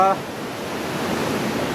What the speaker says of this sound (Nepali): खोला चाहिँ कडा छ, कडा एकदम भन्नु नसक्ने